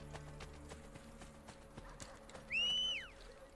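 Horse hooves clip-clop steadily in Assassin's Creed Brotherhood, faint and rhythmic under a low background hum, with a short sharp whinny breaking in partway through.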